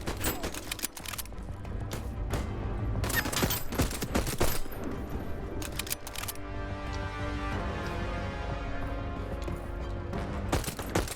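Heavy gunfire from a firefight in the game Voidtrain, repeated sharp volleys and rapid bursts over a humming background, with brief pauses between salvos.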